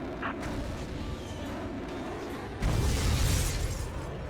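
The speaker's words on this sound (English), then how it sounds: "Dropping bomb." Bombs dropped and exploding in a PS5 video game: a soft pop early on, then a loud, rumbling low explosion bursting in partway through and sustaining over the game background.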